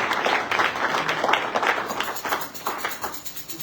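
A church congregation applauds during a worship service, a dense burst of clapping from many hands that swells and then thins toward the end, with faint voices mixed in.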